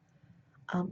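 A single short, sharp sneeze bursts out near the end after a quiet moment, close and fairly loud.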